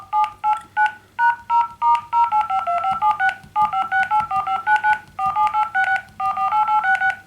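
Keypad tones from a Nokia Lumia 635 smartphone, a quick rhythmic string of short, clear dial-tone beeps, one per key press, close and loud with no talking.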